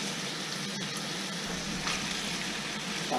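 Bacon rendering down in a pan, with butter sizzling in the fat: a steady, close, continuous frying hiss that holds at an even level throughout, with no voices.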